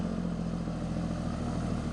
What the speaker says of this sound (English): The roar of the engine and the driver's skill make this truck a true hero of the road.